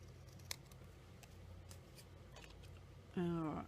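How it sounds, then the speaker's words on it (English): Scissors snip paper bricks off a stamped cardstock piece in a few quiet, scattered cuts close to the microphone, followed near the end by a short burst of voiced sound. "I'm going to cut these bottom bricks off."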